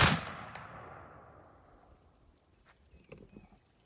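A single loud shot from an 1853 Enfield rifled musket fired outdoors near woods, a sharp blast that decays in a long rolling echo, followed by faint distant knocks.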